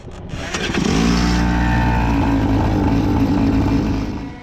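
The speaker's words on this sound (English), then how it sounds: "Here's Trey spinning in turn 10, a corner that caught Trey out several times" A racing kart engine roars steadily at close range as the kart spins out in turn 10 of a track, a loud sustained drone with no voices.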